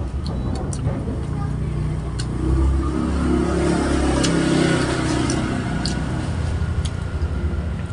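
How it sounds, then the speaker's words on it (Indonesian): Motorbikes ride past on a roadside street, engines swelling loudly midway as they accelerate by, with a voice talking faintly in the background. "pinggir jalan pintunya dibuka, jadi banyak motor keluar"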